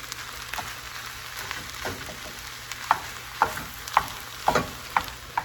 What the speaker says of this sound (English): So we're going to mix all this together and brown it all up.